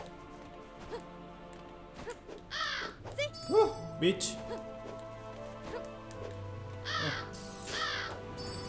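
Crows caw in harsh bursts in the action RPG video game The Vagrant, several calls spread across the clip alongside combat effects, with someone talking over the gameplay.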